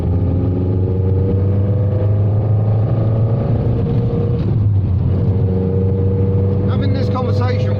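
A Matra Murena sports car drives fast, its engine holding a loud, steady droning note with a slight shift in pitch midway, while a voice talks over it.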